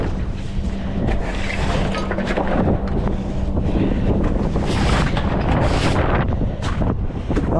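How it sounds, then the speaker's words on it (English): Strong storm wind roars and buffets the microphone without a break, loud and close, with gusts swelling and easing over a deep rumbling background. "All for a bit of wind."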